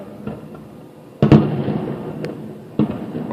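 Fourth of July fireworks go off outdoors in two booming bursts with a sharp crack between them, all heard from some distance over steady crowd and ambient noise.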